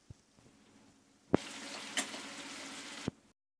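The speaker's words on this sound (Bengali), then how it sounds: "নুডলসগুলো সিদ্ধ হয়ে গেছে এবার এগুলো একটা পাত্রে ঢেলে নেব" Boiled noodles tipped from the cooking vessel into another pot, giving one loud watery splash and pour lasting under two seconds, framed by a couple of sharp clunks of the pot, with quiet kitchen rustling before it.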